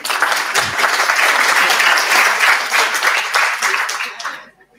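Applause rises from a conference audience at a clinical oncology pharmacy day, loud and dense near the listener, then thins and dies away into silence at the end.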